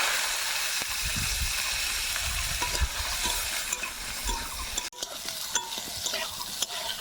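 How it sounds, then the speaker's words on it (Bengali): Pieces of raw mango frying in oil in a pan, mustard seeds tempering, stirred repeatedly with a spatula, giving close, steady sizzling broken by scraping and clattering strokes, no talking. "আম ভাজা হয়ে গেছে, এই দেখুন একটু"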